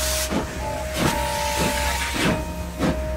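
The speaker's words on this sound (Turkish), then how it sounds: "Aa, tren hareket ediyor." Steam train starting to move in the video game El Hijo, a Wild West tale: rhythmic chuffing bursts of steam hiss, roughly four or five evenly spaced puffs, over a steady low rumble and a faint sustained whistle-like tone.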